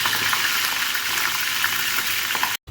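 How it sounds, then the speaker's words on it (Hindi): Fish coated in fish masala fries in a pan with a dense, even crackling sizzle, close and constant, ending in a sudden brief cut to silence, with no voices. "फ़िश मसाला लगा हुआ था मेरे पास, उसे भी मैंने फ्राई कर देना"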